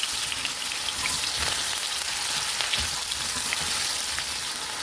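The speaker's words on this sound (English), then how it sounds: "The oil is smoking hot. I'll temper it with a large pinch of cumin seeds, Jeera, and add in chopped potatoes." Cumin seeds and chopped potatoes sizzle in smoking hot oil, a dense, steady crackle like rain with scattered sharper pops and spits, close and continuous throughout without voices.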